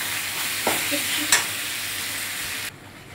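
A spice paste of chili, turmeric, ginger and coriander sizzles in a pan with a steady, soft frying hiss, broken by a couple of brief scraping stirs before the sound drops away.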